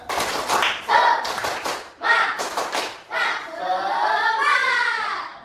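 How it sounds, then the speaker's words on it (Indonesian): A fifth-grade class at an Indonesian primary school does a rhythmic spirit clap, with children's voices chanting loudly in short bursts between clapping patterns, close to the listener. "Tepuk semangat."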